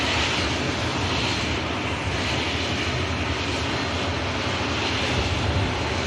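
A De Havilland Dash 8 turboprop at Manchester Airport gives a loud, steady, broadband engine roar with a droning hum, sustained throughout at close range.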